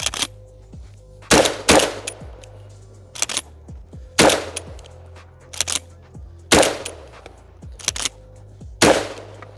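A Rev Arms Impact M4 shotgun fires law enforcement slugs outdoors in a slow series of about eight sharp, loud reports, each followed by a brief echo tail, with irregular pauses between shots.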